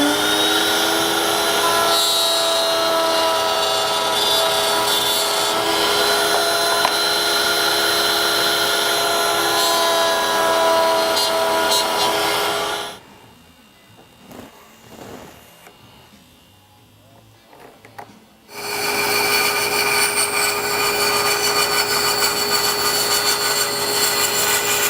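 A bandsaw cuts wood for a steamer trunk, a loud steady whine with a drop to quiet machine rumble partway through before the cut resumes. No talking.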